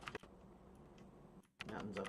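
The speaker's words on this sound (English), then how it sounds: "that's all I'm doing here is I'm typing up some stuff" Quick, light clicks of typing on a computer keyboard come in a loose run of keystrokes, fairly quiet and close, with a short pause near the middle.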